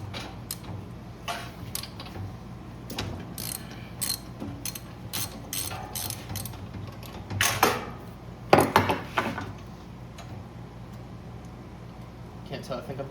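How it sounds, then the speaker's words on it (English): Removing a spark plug from an old generator engine that sat unused for years gives repeated metallic ratcheting clicks in short bursts, with a few louder clanks near the middle, close up with someone talking intermittently. "pull the spark plug first, obviously"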